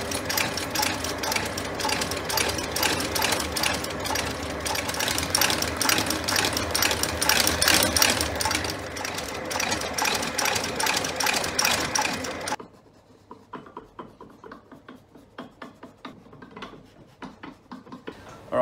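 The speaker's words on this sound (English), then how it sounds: "let's do the stitching" A shoe repair stitching machine sews a shoe sole, running in a fast, steady mechanical rattle for about twelve seconds, then slowing to quieter, spaced individual stitches.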